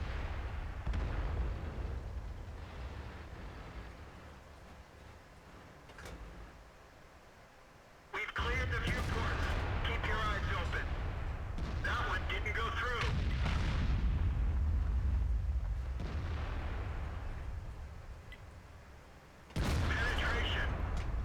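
Tank cannon fire in the World of Tanks video game, a T-10 heavy tank dueling an enemy heavy tank, with booming shots and blasts punctuating a continuous low engine rumble, loud and close, over background game sounds.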